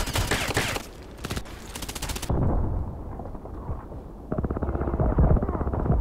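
Gunfire in the first-person shooter Contract Wars: loud rapid automatic bursts and single shots, broken by a brief muffled lull before the firing starts up again.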